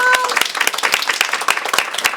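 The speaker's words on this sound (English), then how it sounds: "Let's give it a big round of" Children at an elementary school gathering applaud energetically, quick irregular claps close and loud throughout, with excited voices mixed in.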